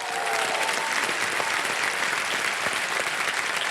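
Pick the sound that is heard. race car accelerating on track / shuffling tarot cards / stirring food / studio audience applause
studio audience applause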